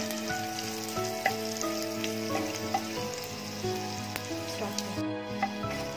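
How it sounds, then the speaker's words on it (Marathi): Garlic browns in a pan for buttermilk peanut kadhi, giving a steady close sizzle and crackle that holds throughout, with occasional small pops and faint stirring scrapes. "लसूण आपल्याला थोडीशी ब्राउन करून घ्यायची आहे."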